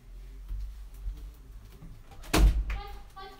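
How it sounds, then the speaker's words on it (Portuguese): A door inside a home is opened after a child's knocking, giving a single fairly loud clunk against quiet room noise, with faint voices around it. "A Melissa já tá batendo ali na porta, eu vou ter que abrir ali."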